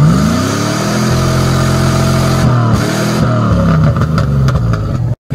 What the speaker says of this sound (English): Sounds sweet. Brand new exhaust on her.